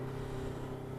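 A 2023 Polaris RZR XP 1000 side-by-side idles steadily just after start-up, a close, constant engine drone with a low throbbing hum and no talk over it.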